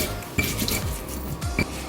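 Chilies crushed into a coarse paste for a spicy tomato sambal, heard as a few sharp knocks and clinks of a pestle against a mortar over soft grinding scrapes, close and fairly loud with no talking.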